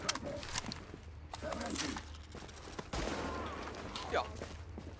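Sniper gunfire in the video game The Division, with sharp shots and cracks over a steady game background, while people talk.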